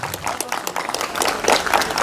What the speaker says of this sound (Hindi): बहुत बहुत ताली बजाकर बहुत सुंदर